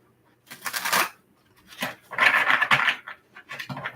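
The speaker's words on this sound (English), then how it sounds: "this is going to be our last shuffle" A deck of cards being shuffled, three or four separate riffling bursts with brief pauses between them, close and clear.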